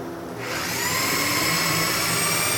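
A power drill drilling holes in wood for dowel pin joinery spins up and runs with a steady, loud whine, close by and continuous, with no talking.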